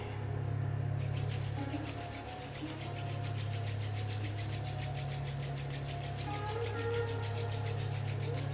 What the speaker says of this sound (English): Rub your hands together in front of your heart.